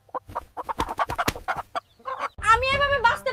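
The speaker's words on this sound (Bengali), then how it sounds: "এই মুরগি চ্যাম্পিয়ন, মাত্র 2 মিনিটে ডিম দিয়েছে।" A hen clucks loudly and close by in a series of rapid, throaty calls that follow a stretch of excited talking.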